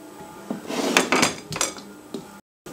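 Boiled potatoes tipped from one container into a bowl of grated onion, a run of close clattering knocks and scrapes of metal and utensils, ending abruptly.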